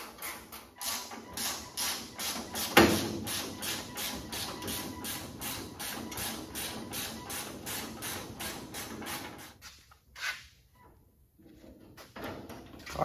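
A rusty cowl part on a Model A hot rod squeaks as it is worked loose, giving a close, rapid run of repeated creaks and scrapes that stops briefly near the end, with no talking over it.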